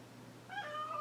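A house cat gives one short, fairly quiet meow that starts partway through, following a soft, low background hum.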